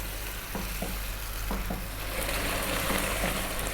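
Beef simmering in added water in a pot, stirred now and then: a steady bubbling, sizzling bed with a few soft spoon knocks, close up, with no talking.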